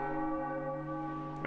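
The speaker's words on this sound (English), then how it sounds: "we hear the ring of the bell from the top of the tower" A tower bell in The Legend of Zelda: The Wind Waker rings out in one sustained, shimmering tone that hangs and slowly decays, clear and fairly faint, with nobody speaking.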